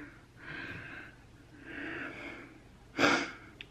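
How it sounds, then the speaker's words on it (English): Heavy breathing close to the microphone while doing makeup, three slow audible breaths, the last a sharper, louder gasp-like intake, otherwise quiet. "Sorry about my heavy breathing."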